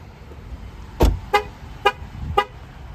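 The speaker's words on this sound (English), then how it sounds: "With those 3 honks, the vehicle is telling me it is still running and the keys have left it." A 2023 Jeep Grand Cherokee L Limited horn gives a quick series of short, sharp honks as a warning that the keys have left the running vehicle, four chirps over about a second and a half above a low background rumble.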